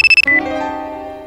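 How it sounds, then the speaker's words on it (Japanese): Phone ringtone from an incoming call, a few short bright beeps followed by a sustained melodic chime, close and clear with no talking. "お、マキマさんから電話だ。"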